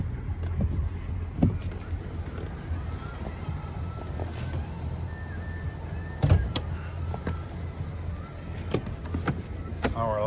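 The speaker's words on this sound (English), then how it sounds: "There's all the windows working." Power windows on a 2015 Ford Fusion Titanium running up and down, a steady low motor whine with wind-like rumble and a few clicks and thumps as the glass travels and stops.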